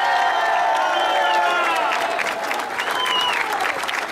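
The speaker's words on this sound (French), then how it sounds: "Public de Bayern, faites du bruit pour Thomas Torrent" Crowd at a Tour de Romandie cycling stage podium ceremony applauding and cheering, a dense, loud wash of clapping with rising whistles and shouts throughout.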